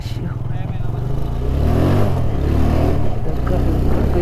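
A TVS Apache motorcycle's engine drones steadily and up close while it is ridden, with a rise in loudness partway through, heavy low rumble and wind noise throughout, and no talking.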